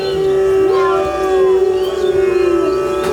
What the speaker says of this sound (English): The wolf's howl is filled with mystery.